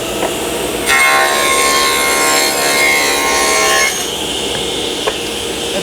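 Table saw cutting wood, a loud, whining cut of about three seconds starting abruptly and ending sharply, with quieter motor hum and small knocks on either side.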